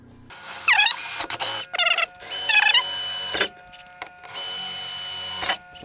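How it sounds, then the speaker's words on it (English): Power drill boring holes into a truck camper shell, several loud whining bursts with rising and falling pitch, separated by short pauses, up close. "we're going to drill like 4 holes and install them to the shell"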